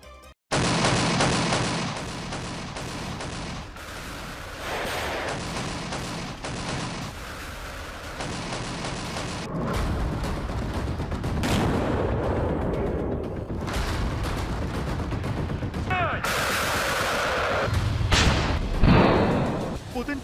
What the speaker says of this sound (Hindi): पुतिन की सेना ने यूक्रेन पर अपनी घातक मिसाइलों से ताबड़तोड़ हमला किया।